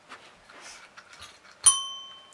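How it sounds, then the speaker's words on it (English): A 4-month-old Cocker Spaniel puppy rings a bell: one sharp ding with a long, clear ringing decay after soft indoor shuffling and faint movement sounds. "Ring the bell."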